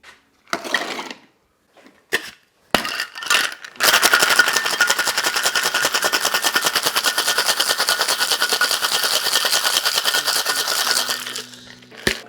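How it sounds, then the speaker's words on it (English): A cocktail shaker with ice is shaken hard, preceded by a few sharp clinks and knocks, then a long, loud, rapid rattling of ice for about eight seconds before it stops. "Add some ice and give it a shake."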